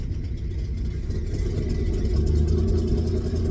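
Old 1984 Ford F250 engine runs steadily close by with a low, rough rumble that swells slightly as the truck backs out in reverse, with no talking.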